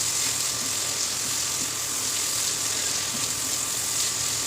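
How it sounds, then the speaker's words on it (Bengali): Chopped tomato stirred in a frying pan while preparing a loitta (Bombay duck) fish dish, giving a steady, soft sizzle with faint scraping that holds evenly throughout, close by and without talk. "টমেটো কুচিটা দেওয়ার পরে আবারও একটু নাড়িয়ে নিচ্ছি বন্ধুরা"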